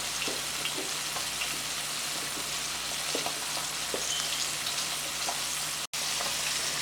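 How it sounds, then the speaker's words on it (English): Fish for a stew frying in a pan, a steady dense sizzle with scattered pops and spits, close and even throughout, broken by a brief silent gap near the end. "We're gonna let this fry about maybe 4 minutes on each side."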